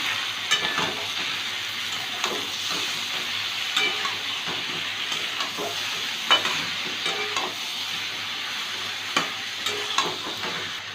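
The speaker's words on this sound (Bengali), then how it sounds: "হাফ চামচ হলুদ অল্প একটু লঙ্কার গুঁড়ো লাল লঙ্কার গুঁড়ো এবার খুব ভালো করে কষাবো" Ash gourd fries in a pan with salt, turmeric and red chili powder, cooked the old-fashioned way. A steady close sizzle runs under repeated scraping stir strokes and small clacks of the spatula.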